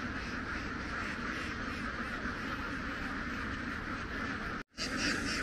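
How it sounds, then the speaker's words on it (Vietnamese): Ducks quack continuously in a dense, loud chorus outside their pen at night on a Mekong Delta farm, a steady clamor that cuts out briefly near the end before resuming. "mấy anh vịt này ra phía ngoài chuồng rồi nè"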